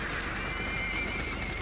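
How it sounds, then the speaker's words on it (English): A wild stallion neighs in a classic 1939 Western, a loud, sustained whinny with a steady high cry heard close over dense background noise. "Oh, Diablo's still a wild horse."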